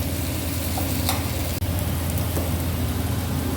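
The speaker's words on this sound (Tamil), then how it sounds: "இது 1 நிமிஷம் வதங்கணும்." Tomatoes sauté in a pan for pepper chicken gravy, giving a steady, dense sizzle that runs unbroken throughout, with a few faint stirring scrapes and no voices.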